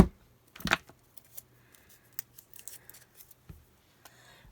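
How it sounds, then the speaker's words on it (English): Sticky scissors snip to trim tape off a Halloween craft box, giving a few short, sharp cuts spread through near silence with light handling rustles between them. "we'll come back with our sticky scissors and trim that off"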